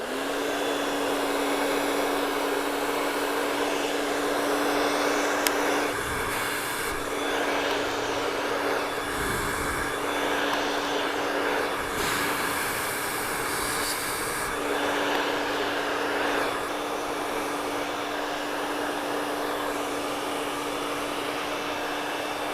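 Handheld hair dryer blowing steadily on hair styled with a round brush from behind the client in a salon, a constant loud whooshing hum that runs the whole time with slight shifts in tone as the airflow moves.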